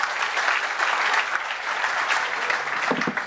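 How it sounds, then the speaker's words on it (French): An audience in a hall at an evening awards event gives dense, sustained applause, a continuous loud wash of many hands clapping at once with no voices standing out. "Pendant que tous les autres dans la salle vous applaudissent"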